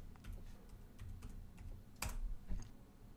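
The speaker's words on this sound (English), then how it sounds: "I'm just going to do a quick search by typing in system version." Quick keystrokes on a computer keyboard while entering a search, a soft irregular patter of clicks with one sharper tap near the end, close and quiet, without speech.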